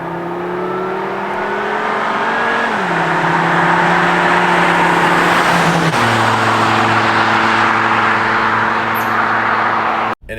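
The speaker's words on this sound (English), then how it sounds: "It's got one of those raspy kind of engine notes that no other car has." A Volvo V70R engine accelerating hard with a raspy, almost supercharged-sounding note, loud and close, revving through rising tones with a gear change near three and six seconds, cutting off abruptly at the end.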